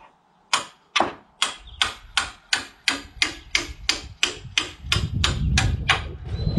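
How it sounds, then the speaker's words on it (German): A small hammer strikes metal about fourteen times in a steady rhythm, sharp and close, with a rumble building underneath toward the end. "Dann nimm mal jetzt ein Hämmerchen und versuch drauf rumzuhauen."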